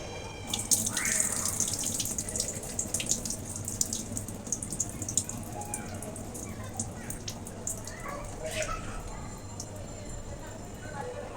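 Tap water runs steadily into a kitchen sink while potato and soaked rice and lentils are rinsed for khichuri, with splashing, drips and light handling noises throughout at moderate level.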